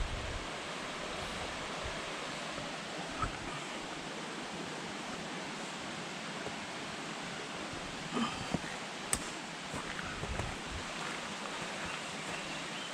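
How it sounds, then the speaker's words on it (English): A small creek on the Appalachian Trail in Maryland flows over rocks after a night of heavy rain, a steady, close hiss of rushing water with a few faint knocks and no talk. "It's a pretty little creek."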